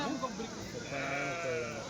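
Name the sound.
goats bleating at a livestock market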